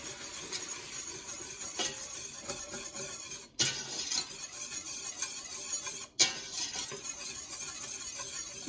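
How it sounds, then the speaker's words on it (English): A whisk stirs flour into melted butter in a pan to make a roux, giving a soft continuous scraping and swishing with light metallic clinks and a couple of brief pauses. "I'm going to put in a couple heaping spoonfuls of flour, and we're going to give it a little whisk"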